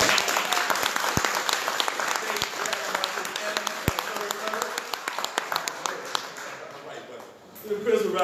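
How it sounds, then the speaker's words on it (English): An audience applauds for a school principal at a public event, steady clapping with sharp individual claps, mixed with voices speaking underneath. "The principal round of applause."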